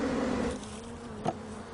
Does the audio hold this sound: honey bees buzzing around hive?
yes